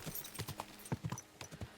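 A horse in Kingdom Come Deliverance 2 moves quickly over uneven terrain, its hooves giving faint, irregular clip-clop beats with a brief whinny-like trace.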